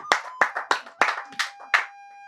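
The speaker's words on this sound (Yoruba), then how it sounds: "ẹ bá ń pàtẹ́wọ́ fún wọn." A studio audience on the Masoyinbo game show claps for the guests in about six separate, sharp bursts spaced roughly evenly apart, close and crisp over a faint steady tone, then fades out.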